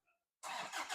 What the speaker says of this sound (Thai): มาฟังเสียงเครื่องยนต์กันบ้างนะครับ